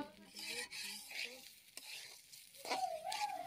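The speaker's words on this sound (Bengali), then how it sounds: "সেজন্য অনবরত নেড়ে চালটা ভালোভাবে ভেজে নিতে হবে।" Raw rice is stirred continuously as it dry-fries in a pan, a soft repeated scraping and faint sizzle close by but quiet, with a thin tonal hum in the background.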